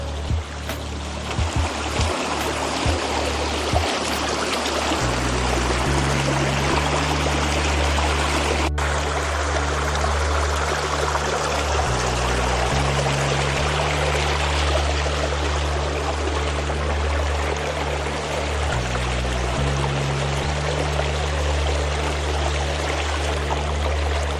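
Creek water rushes and burbles steadily and loud as someone wades through the middle of the stream on a back country hike, with occasional low splashes from footsteps under the constant flow.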